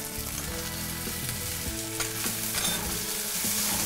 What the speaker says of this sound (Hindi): इसको हम लगातार चलाते रहेंगे तो प्याज अच्छी तरह भुन जाए